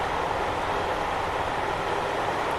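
Mk1 coaches on BR1 bogies run at speed in Train Simulator 2020, giving a steady, dense broadband rumble and rolling hiss that holds even throughout, with no talk over it.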